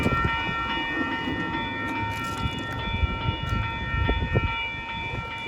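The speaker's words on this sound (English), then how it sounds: "We have a westbound freight train." A westbound freight train hauled by SD70ACe locomotives approaches along the line, with a steady rumble and rail noise under a sustained tonal horn-like sound, continuous and moderately close.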